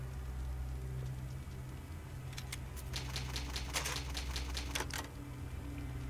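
Old typewriter in the Resident Evil HD Remaster save room, a run of about a dozen crisp key strikes clacking in an uneven burst over a low steady hum of game ambience.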